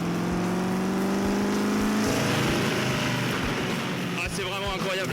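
Lazareth Wazuma V8F prototype with its V8 engine rolling slowly around a kart track, a loud steady low rumble close by that rises in pitch partway through, with someone speaking over it near the end.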